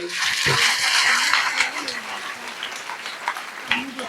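A church congregation at a Sunday service claps loudly in a dense burst that gradually thins out, with voices calling out over the applause.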